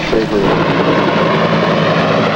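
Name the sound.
crew-carrying helicopter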